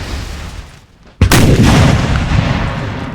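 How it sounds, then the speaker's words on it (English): A single loud, heavy artillery cannon boom in the Napoleon Total War strategy game rings out after a quiet moment, then a long rumbling roll of battlefield noise follows. "Really relying on this artillery here to try and slow down the Austrians"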